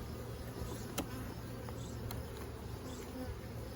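Honey bees buzz steadily around frames lifted from a single brood chamber during a summer honey super check, a dense close insect drone with a few sharp clicks from handling the frames.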